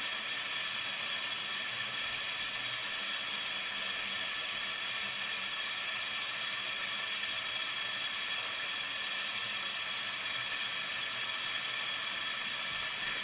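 A faucet runs in a steady, loud hiss while a makeup blending brush is rinsed under the tap, with no pauses across the whole stretch.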